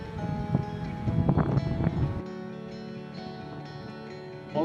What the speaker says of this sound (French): C'est abusé le vent qu'il y a.